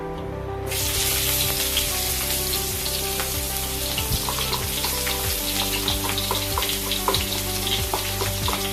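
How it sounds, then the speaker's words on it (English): Garlic and shallot are stir-fried for fried rice, a loud continuous sizzle with scattered crackles and spatula scrapes, close and steady throughout with no talking. "First of all, stir fry the garlic and the shallot."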